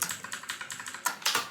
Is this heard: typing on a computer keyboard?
yes